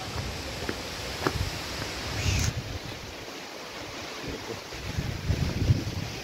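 Water at Tirathgarh waterfall in Chhattisgarh rushing as a constant broad roar, mixed with wind buffeting the microphone, with a few faint clicks and thumps nearby.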